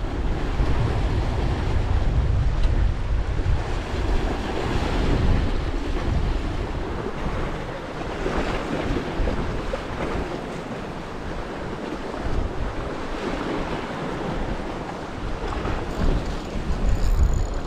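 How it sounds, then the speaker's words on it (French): Strong wind buffeting the microphone at a seaside fishing spot, gusting low and loud over the steady wash of waves and surf throughout. "j'ai le vent qui me gêne un peu"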